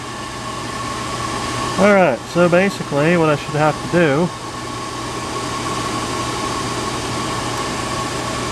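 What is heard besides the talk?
large exhaust fan running in garage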